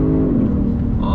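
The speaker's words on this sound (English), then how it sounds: "We're gonna go on throttle from a dead stop." A 2022 Genesis G70 with an 8-speed automatic pulls hard from a standstill, its engine note loud and close, rising in pitch and then stepping through a quick upshift, with talking over it.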